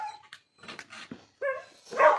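A dog barks and yips in a few quick, excited bursts at close range, mixed with rustling and background noise during an outdoor scuffle over a stick.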